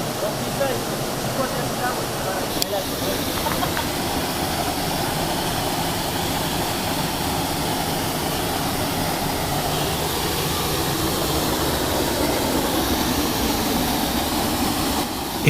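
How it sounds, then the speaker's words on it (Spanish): The sixth cascade of the waterfall trail at Cafayate, Argentina, gives off a steady, loud broadband roar of falling water that stays even throughout. "Llegamos a lo que consideramos la sexta cascada."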